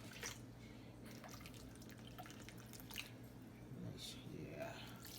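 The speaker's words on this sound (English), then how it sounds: "Let's add 4 cups of water, which would be 2 bottles of water." Water poured from bottles into a roasting pan holding a pork roast, a soft continuous splashing and dripping under a low hum, close and quiet, with speech nearby.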